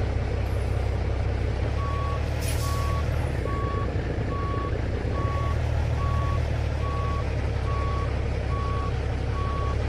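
A truck backing up in American Truck Simulator sounds its reversing alarm: evenly spaced, clear electronic beeps repeat steadily over a constant low engine rumble, with no talking.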